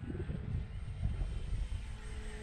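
Skynitic Havok FPV model airplane flies overhead with a steady propeller and motor drone, loud and close, broken by gusty wind rumble through its brief pass.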